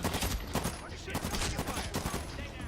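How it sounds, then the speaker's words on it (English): Sustained automatic gunfire in a Medal of Honor Warfighter battle, dense overlapping bursts and rapid shots crackling continuously and loudly with no pauses. "I want to see where the gunfire is coming from"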